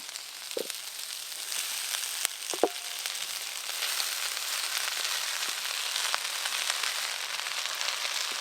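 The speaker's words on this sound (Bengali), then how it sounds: "ভেজে রাখা সবজি, কাজু আর কিশমিশ ঘি দিয়ে একটু ভালো করে নেড়ে নিয়েছি। এবার ভাত দিয়ে দেব।" Fried rice with vegetables, cashews and raisins sizzling softly in ghee in a pan, a steady crackle with a few sharp utensil knocks and scrapes early on, no talking.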